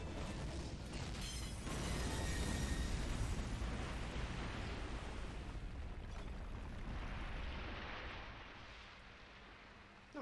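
Explosions and fireworks-like blasts at a railway bridge in the World War II shooter Call of Duty: United Offensive, a loud rumbling barrage that swells and then fades toward the end.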